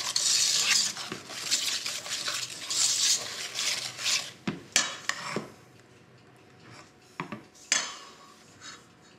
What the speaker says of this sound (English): just using a whisk blend that together